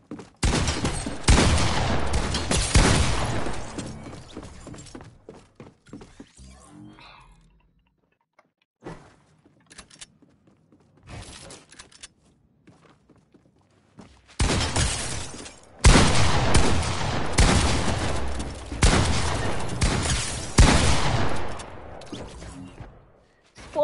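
Rapid gunfire in a PS5 shooter video game, loud dense bursts of automatic fire at the start and again toward the end, with quieter scattered shots and clicks in the lull between.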